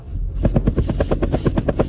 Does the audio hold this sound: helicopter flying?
yes